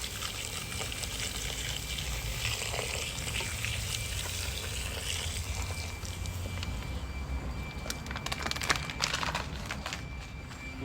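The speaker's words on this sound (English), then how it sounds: "we're gonna let this cook for a little while until the potatoes, carrots, and parsnips are at your desired tenderness" Goulash with potatoes, carrots and parsnips simmers in a pot over a fire, giving a continuous bubbling sizzle with a few brief clinks and scrapes near the end and no talking.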